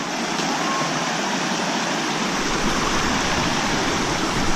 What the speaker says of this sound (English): It's like a little creek that comes down.